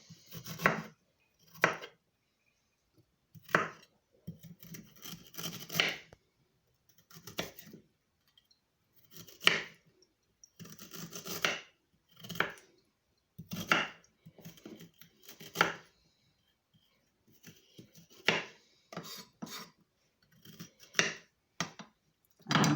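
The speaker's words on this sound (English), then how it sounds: "Then I'm chopping up my ginger in small pieces" A knife chops ginger into small pieces on a cutting board in irregular bursts of quick, crisp taps, with short pauses between runs of cutting.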